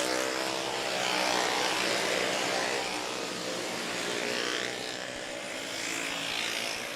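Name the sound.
intermediate class karts racing at Sebastian Speedway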